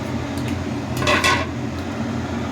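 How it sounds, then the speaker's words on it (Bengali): Chicken pieces dropped into a cooking pot for a Bengali country-chicken curry give a short clatter of metal and wet meat, with a brief burst of clanking against the pot's rim over a faint background hum. "প্রথমে আমি হাঁড়িতে মাংসটা দিয়ে দিলাম"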